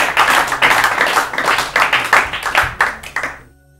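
Clapping from a small audience for a contestant on an Urdu-language quiz programme, a close, fairly loud patter of hands with distinct individual claps that tapers off and stops abruptly near the end.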